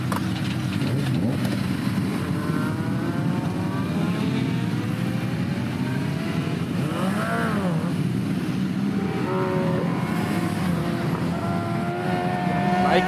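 A Honda motorcycle accelerates around a circuit, its engine note rising and falling through throttle changes as the bike switches from side to side, heard steadily at moderate distance with engine drone throughout.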